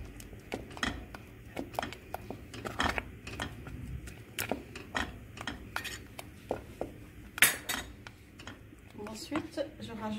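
A spoon stirs semolina cake batter with strawberry jam in a bowl, making soft, irregular clinks and taps against the bowl at close range, fairly quiet, while someone talks.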